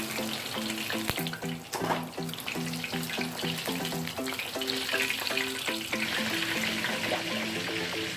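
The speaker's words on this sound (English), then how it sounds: "The last sets are frying" Fish frying in hot oil for Jamaican escovitch fish, a steady, close sizzle and crackle throughout, with clinking utensils and background music underneath.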